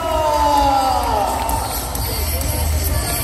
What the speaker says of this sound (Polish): Coś pięknego, wielkie brawa, Aleksandra Szczęśliwska!